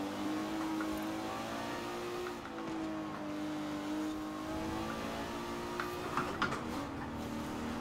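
A vintage Maserati race car's engine drones and revs steadily in Forza Horizon 4 on Edinburgh streets, a sustained loud tone with shifting pitch and small rises near the end, no talking.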